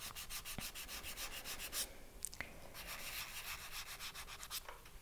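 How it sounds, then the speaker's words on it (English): Close, quiet rhythmic rubbing of a sanding pad on a sterling silver hollow form ring, quick back-and-forth strokes with a few sharp ticks in between. "I'm going to move on to sanding pads."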